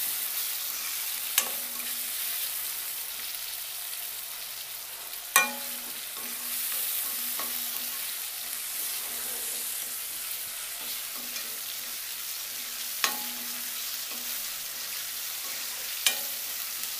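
Tomato pieces fry in a brinjal and potato curry, a steady close sizzle with a few sharp spoon knocks against the pan spaced through, no talking.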